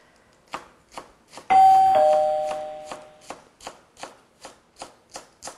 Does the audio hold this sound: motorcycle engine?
no